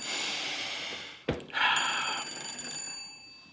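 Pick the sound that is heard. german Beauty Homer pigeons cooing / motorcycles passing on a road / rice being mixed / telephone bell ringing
telephone bell ringing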